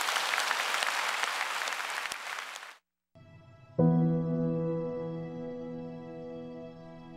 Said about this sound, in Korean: 우리 하나님께 감사의 박수 올려 돌리십시오.